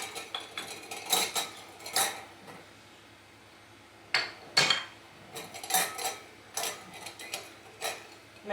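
A small dibber stirring and knocking inside a pot in irregular bursts, sharp clinks and scrapes separated by brief pauses, close-up with no talking.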